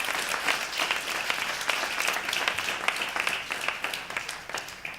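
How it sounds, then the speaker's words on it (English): Applause from a crowd at an awards gala, steady dense clapping from many hands that holds for several seconds at moderate distance with no speech. "Let's give a big round of applause, ladies and gentlemen"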